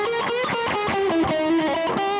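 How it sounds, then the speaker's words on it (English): Electric guitar played through a reverb effect with pre-delay and a dark, not very bright tail, for a neoclassical backing; a steady melodic line of sustained, slightly distorted notes rings out alone. "this reverb is not very bright sounding"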